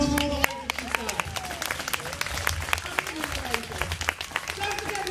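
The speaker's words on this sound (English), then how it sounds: "applause for all the work that she's done" An outdoor crowd at a Proms in the Park evening in Gheluvelt Park claps, with scattered individual claps and cheers over voices talking nearby.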